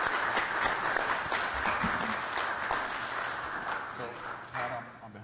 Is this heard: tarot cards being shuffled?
no